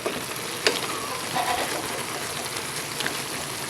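Crab cooking in reduced coconut milk with squash sizzles steadily in the pan, a close, even frying hiss with a few soft clicks from stirring and no talk.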